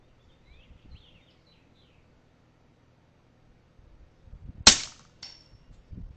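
A single subsonic rifle round is fired at a metal plate target 100 yards away at night, one sharp crack with a quick faint ring after it, set against near silence and faint birdsong.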